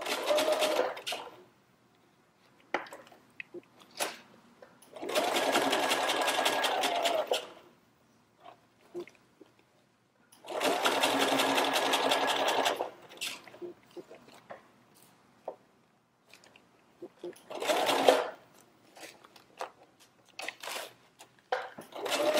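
A sewing machine stitches a knit t-shirt backed with a coffee filter as stabilizer, running in several bursts of steady, rapid whirring separated by short pauses and small handling clicks, close and clear with no talk.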